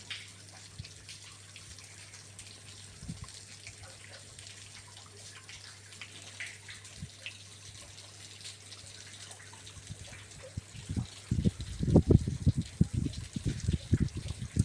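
Irrigation water gushes and flows steadily along a farm channel into a millet field, growing louder and more turbulent with splashing bursts toward the end.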